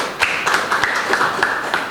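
Applause at a Shifa Hospital gathering: a short burst of sparse, scattered hand claps, fairly close and unaccompanied by talk.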